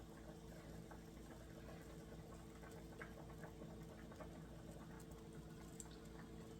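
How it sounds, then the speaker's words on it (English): Water boils in a pot on a kitchen stove as potatoes cook, a steady low bubbling rumble with faint hiss, continuous and fairly quiet throughout with no talk. "Standing here watching water boil is like watching grass grow."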